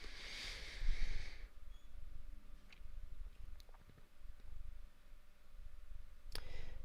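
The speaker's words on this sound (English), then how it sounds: "I keep clicking it and it's not sending." A computer mouse is clicked repeatedly: sparse, faint, sharp clicks spaced irregularly over a quiet room background.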